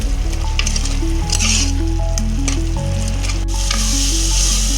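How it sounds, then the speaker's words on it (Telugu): Mutton keema masala sizzles and fries steadily in oil, a loud continuous crackle with occasional stirring scrapes and sharper pops, heard alone without voices. "మసాలా అనేది బాగా వేగింది, ఆయిల్ అంతా పైకి తేలింది"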